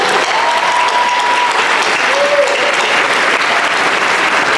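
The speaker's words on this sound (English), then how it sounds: "Let's give these ladies a round of applause" A large convention crowd applauds a panel of actresses at Comic Con, dense, loud, continuous clapping with a couple of cheering whoops rising above it.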